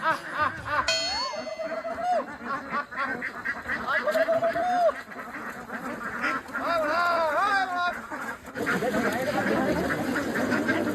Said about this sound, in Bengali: দেখ হাঁসগুলো দেখ, ট্রেনিংটা দেখ, ডাকা মতো চলে এলো।